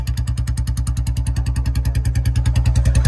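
A 2024 Royal Enfield Bullet Standard fitted with a short bottle silencer runs close by, its single-cylinder engine thumping in a steady, even beat with a deep exhaust note that swells slightly louder toward the end.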